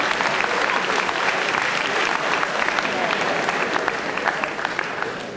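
Steady, dense audience applause fills a convocation hall after a literature lecture, a continuous roar of many hands clapping at full strength throughout.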